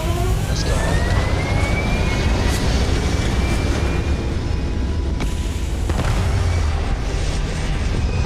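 A spaceship lifting off in Starfield gives a loud, continuous low rumbling roar that holds steady throughout, with a faint rising whine and a few soft thuds layered over it.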